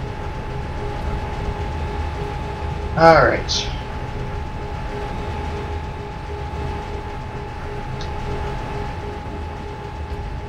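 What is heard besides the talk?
bullet train riding, from a video game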